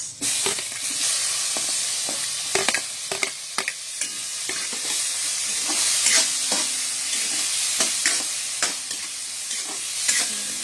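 Tomatoes sautéing in a pan for squid adobo, an even frying sizzle with frequent sharp clacks and scrapes of a spatula stirring.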